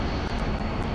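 A MiG-15 jet engine in the DCS flight-simulator game spools up in a dense, continuous roar at steady loudness, heard alone for about a second.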